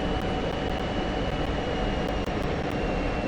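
An F-16 in the DCS flight simulator roars with a steady, loud, continuous jet engine rumble, heard close and unbroken throughout, with a few faint clicks above it.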